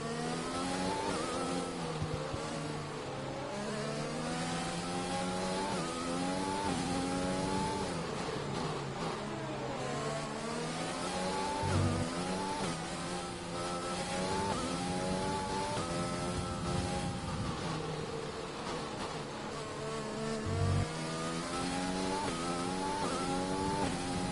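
F1 car engines race in F1 2020 at the Brazil circuit, a continuous high-pitched whine rising and falling with gear shifts and acceleration, with other cars audible nearby throughout.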